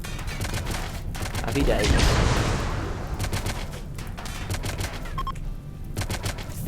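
Rimworld turret gunfire in rapid bursts of repeated shots, with a heavy blast swelling in the middle, while a voice talks briefly over it.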